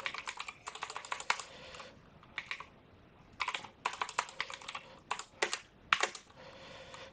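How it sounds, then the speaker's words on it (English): Bursts of rapid clicking come from a computer keyboard as code is typed, with short pauses between flurries, close and soft, and no one talking. "Let's start to type something."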